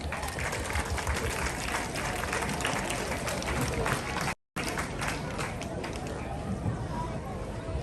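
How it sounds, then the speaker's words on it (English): An audience at an outdoor community rally against anti-Asian hate applauds students from Great Neck Middle School, steady dense clapping and crowd noise running for several seconds with a brief dropout midway. "Let's have a round of applause for them."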